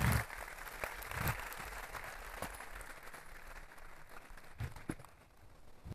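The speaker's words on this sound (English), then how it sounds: "Let's give them a round of applause" A student orientation audience applauds in a hall: a steady wash of many hands clapping at moderate distance, fairly soft, tapering slightly toward the end.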